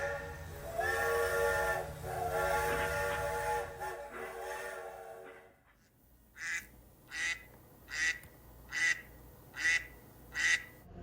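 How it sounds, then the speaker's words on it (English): A wild duck in a Walmart parking lot quacks six times in a steady, evenly spaced series, loud and close. A long whistle-like tone comes first, and there is no talk. "This duck just came up to my car in Walmart."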